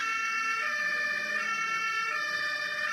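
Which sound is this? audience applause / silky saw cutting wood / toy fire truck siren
toy fire truck siren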